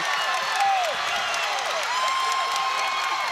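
A packed home crowd at a high school varsity boys' basketball playoff game, Eastern at Lenape, roars after a tying layup: a loud, sustained wall of cheering and clapping, with occasional sneaker squeaks cutting through.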